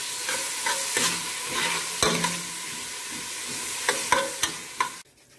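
Vegetables sizzle steadily as they sweat in a hot pot for Jamaican fish soup while a spoon stirs and scrapes at intervals, the frying hiss continuous until it cuts off near the end.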